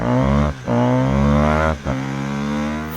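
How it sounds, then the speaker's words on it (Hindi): A small engine fitted to a bicycle runs steadily and loudly, its pitch dipping twice as the throttle eases off and then rising again. "साइकिल पे इंजन लगा दिया"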